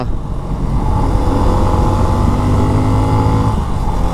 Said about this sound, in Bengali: আজকে আমরা 2 নাম্বার গিয়ারে 40 চালাইতেছি, 250 সিসি বাইকের মজা নিব আজকে